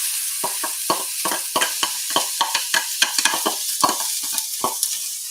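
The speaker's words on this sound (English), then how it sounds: "And then we start caramelizing some onions." Onions sizzle in a wee bit of canola oil in a cast iron pan, with repeated scraping stirs of a utensil cutting through a steady bright fry, close and fairly loud with no talking.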